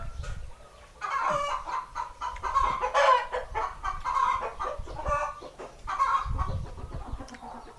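Farm chickens cluck and squawk close by in bursts, with a rooster crowing among them, loud and busy for several seconds alone without talk.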